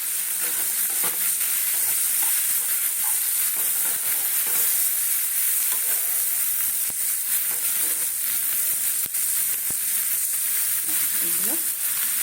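Meat fries in a pan with a constant, dense sizzle and hiss, while occasional stirring scrapes and light utensil taps come through close by over twelve seconds.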